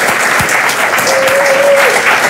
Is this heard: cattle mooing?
no